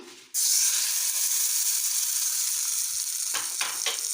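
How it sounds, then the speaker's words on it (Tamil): Mustard seeds and curry leaves hit hot oil for tempering a coriander chutney. After a brief quiet moment a loud, dense sizzle bursts up and holds steady, with a few short stirring scrapes near the end. "கடுகு கருவேப்பிலை மட்டும்தான் நம்ம போட்டு தாளிச்சிருக்கோம்"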